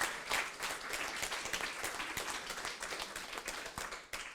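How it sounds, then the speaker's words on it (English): An audience applauds colleagues at the close of a KuK Tuesdays talk event, with dense, steady clapping throughout that fades slightly near the end. "give them an applause."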